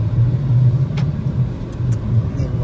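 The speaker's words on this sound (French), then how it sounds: "Aujourd'hui, on va vous montrer comment c'est conduire à Montréal" Car driving through a winter snowstorm on roads around Montreal, a loud steady low engine and road rumble from inside the vehicle, with a few faint brief higher clicks and no talk.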